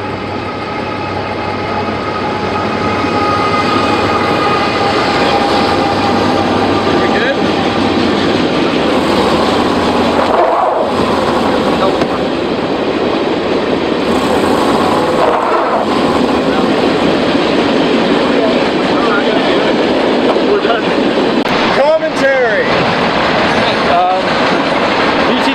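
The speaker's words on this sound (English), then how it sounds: "Well, because there's a train right there." A train passes nearby, a loud sustained rumble with rail clatter lasting throughout, heard from beside a Subaru during a center differential test.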